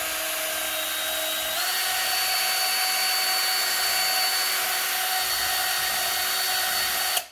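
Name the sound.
drill mixing epoxy resin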